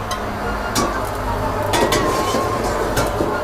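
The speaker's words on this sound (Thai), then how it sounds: "ผัดไป เลยเพราะผมอยากให้น้ำมันซึมเข้าไป ใน หอย" Scallops stir-fried in oil in a pan sizzle steadily, while a utensil scrapes and clinks against the metal in several quick strokes, close and fairly loud.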